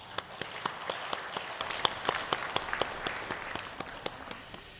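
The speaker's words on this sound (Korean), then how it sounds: "우리 은평 찬양팀 격려하며 박수하겠습니다" A church congregation claps to encourage the worship team, a moderate crowd of hands with distinct individual claps popping out in an irregular patter, fairly close and without speech.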